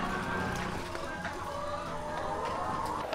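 Laying hens clucking close by in a steady, overlapping chorus of short calls above a constant low background hum.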